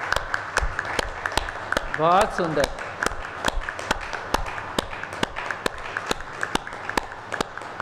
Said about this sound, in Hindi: अब ताली बजाने का तो हक बनता है भाई हमारा